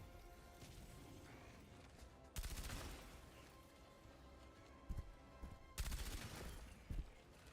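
Gunfire in Helldivers against robot enemies, with dense sustained shooting and sharper loud bursts around the middle and near the end, set over a constant busy battle din.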